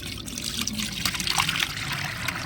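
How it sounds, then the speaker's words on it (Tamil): Liquid fertilizer splashes and trickles through a strainer, a close, wet pouring stream that rises and falls, with a few brighter splashy bursts in the middle and no voices. "இந்த வடிகட்டியில் இதை தூக்கி ஊற்றிக்கலாம்"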